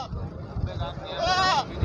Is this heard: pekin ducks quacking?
no